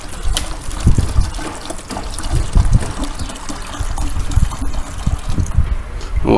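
Wynn's diesel injector cleaner poured from its bottle into a diesel vehicle's fuel tank, a steady liquid trickle and gurgle close by, continuous for several seconds with no talk.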